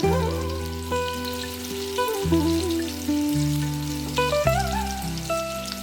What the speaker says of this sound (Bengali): তেলটা খুব ভালো গরম হয়ে গেছে বন্ধুরা এবার এর মধ্যে সেদ্ধ করা আলুগুলোকে দিয়ে দেবো